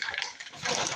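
Water pours into a skillet for making grits, a brief, soft, close splashing gush lasting about a second.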